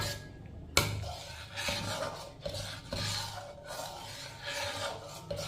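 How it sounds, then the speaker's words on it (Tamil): Food with pink salt is stirred and mixed in a pot, giving repeated scraping and rubbing strokes of a utensil against the pot, close and fairly quiet, with no talk. "எல்லாத்தையும் நல்லா மிக்ஸ் பண்ணிடுவோம்"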